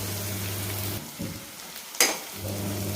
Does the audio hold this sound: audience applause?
no